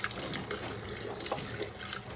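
Water runs from a tap while dishes are washed in a home kitchen, a quiet steady splashing trickle with small drips, soft and continuous, with no talk over it.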